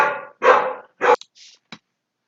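Dogs bark nearby during an online physics lesson: a few loud, close barks in quick succession, then a short sharp yip and a final bark, with no talking.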